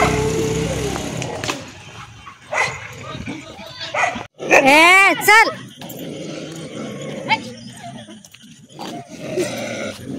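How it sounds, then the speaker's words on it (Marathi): Village dogs bark loudly and growl close by, with a sharp burst of barking in the middle, while people talk and call out throughout. "तुझ्यामुळे कुत्री सगळी भुंका लागल्यात आम्हाला"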